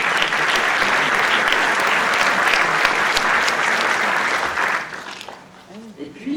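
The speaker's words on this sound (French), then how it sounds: "vous pouvez tous vous applaudir" A large audience at the opening ceremony of the 31st FICA film festival applauds loudly and steadily, then the clapping thins and fades near the end, leaving scattered claps and a voice.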